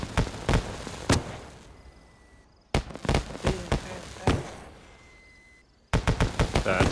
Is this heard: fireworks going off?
yes